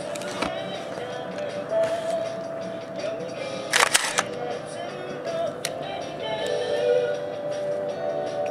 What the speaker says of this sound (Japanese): シャッター音も静かな感じです。